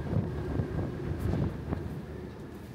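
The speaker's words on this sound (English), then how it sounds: "It's incredibly windy and incredibly choppy." Strong wind roars across the open deck of a cruise ship at sea, heavy rumbling buffeting on the microphone with a faint steady hum underneath.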